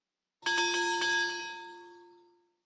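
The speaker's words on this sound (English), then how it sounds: "Mikola crossed to the other side of the river and started ringing the bell again." In the video game Highly Likely, a bell strikes once with a clear metallic ring, a couple of quick overlapping taps at the start, then a long decaying tone that fades out over about two seconds.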